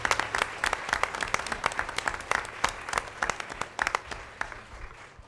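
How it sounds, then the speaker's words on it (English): An audience applauds schoolchildren and parents at a Monroe Township Board of Education regular meeting. The claps are distinct and steady, rising and falling slightly over several seconds. "So a nice round of applause for all of the children this evening"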